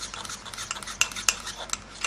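A spoon stirring mug cake batter mixed with coconut powder in a cup, quick scraping and clinking strokes with a few sharper taps against the rim, close and moderately loud.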